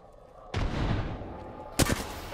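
A frag grenade blast in a sci-fi shooter game hits with a sudden loud broadband boom that rumbles and decays, followed by a second sharp crack of impact or gunfire a moment later.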